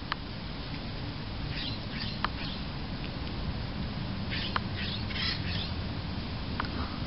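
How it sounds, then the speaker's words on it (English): Outdoors on a walk, a bird gives a few sharp, isolated squawks and chirps over a constant hiss of wind and background noise, fairly faint and spaced apart. "Anybody know the name of that bird?"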